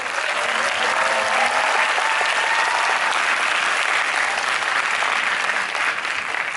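A fan-event crowd of the KinnPorsche series applauds the production team, loud, thick continuous clapping with faint cheering mixed in, steady from start to finish.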